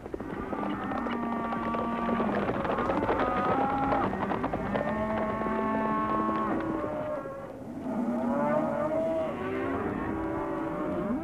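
Cattle on a large cattle station in Australia's Northern Territory moo loudly and continuously, several animals lowing over one another in long, drawn-out calls with no talk.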